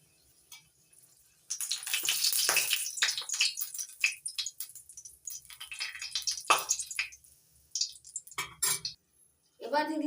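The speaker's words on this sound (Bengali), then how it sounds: "তেল গরম হয়ে গেছে, এবার ফোড়নের জন্য দিচ্ছি তেজপাতা, দুটো শুকনো লঙ্কা।" Bay leaves and two dried red chillies sizzle in hot mustard oil for tempering, a crackling spatter that starts abruptly and comes in bursts between quieter gaps, with faint clinks of a utensil.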